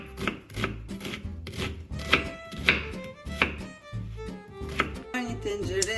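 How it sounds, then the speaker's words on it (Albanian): A knife chops onion on a cutting board in a home kitchen, a quick series of crisp, close thunks in an uneven rhythm, with short pauses between bursts. "Ngrim qepën."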